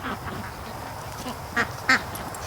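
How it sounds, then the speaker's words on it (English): Ducks, including a Dalmatian duck, poking their bills under a garden wire near a swamp, giving a couple of short nasal quacks over a steady outdoor background with a faint hum. "Actually, there's a Dalmatian duck down there right now."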